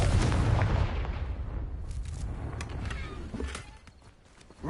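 A Confringo fire spell blast in Hogwarts Legacy: a loud, booming burst at the start that rumbles and fades over several seconds, followed by scattered faint clicks and small impacts.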